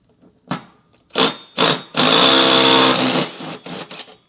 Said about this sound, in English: put my impact wrench on the top